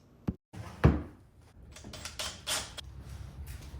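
A drawer box slides out of a shop-built rolling bandsaw cabinet base, with a sharp knock, a heavy thunk and then a rough scraping slide, loud and close.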